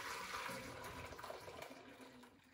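A milk and egg mixture for eggnog poured back into a washed pot, a soft continuous liquid splashing and gurgling, fairly faint and close, fading slightly toward the end with no talking.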